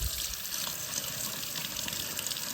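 Water runs steadily from the tap of an off-grid sink with temporary plumbing, a soft, continuous hiss and trickle heard on its own with no talking.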